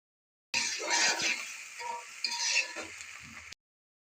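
Pasta seasoned with Maggi masala is stirred in a pan for about three seconds, with a continuous close scraping and a light sizzle underneath.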